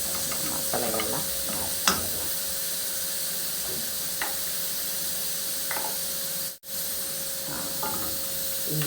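Turmeric powder and spices fry and get stirred in a pan while cooking a sprouted black chickpea gravy: a steady sizzle runs throughout, with occasional scraping strokes of the stirring spoon and no talking.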